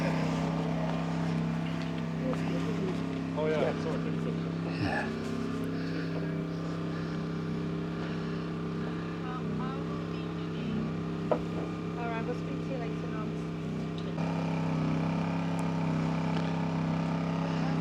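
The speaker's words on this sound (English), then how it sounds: "Man taking the boat out." A boat engine on a canal drones steadily at a low pitch, moderately close, with faint background noise and occasional light sounds over the hum.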